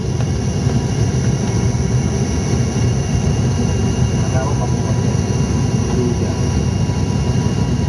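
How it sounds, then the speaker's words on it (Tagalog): Steady broadband roar of a small airplane's engine in flight over Caramoan, loud and continuous throughout, with voices talking over it. "umiikot yung aeroplano namin about a stiff 45 degrees or 50 degrees"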